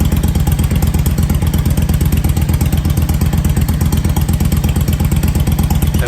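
A Yamaha V Star XVS 650 motorcycle engine running steadily in a garage bobber build, a loud, close, continuous rhythmic thumping idle with mechanical clatter and no talk.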